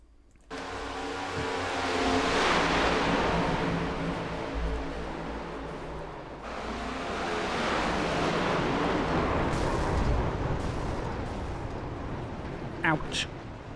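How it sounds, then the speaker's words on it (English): Loud, sustained roar and rumble of engines and impact noise from a NASCAR NextGen stock-car crash in iRacing on the Monza oval, with a sharp metallic hit near the end. "Let's watch that crash from camera."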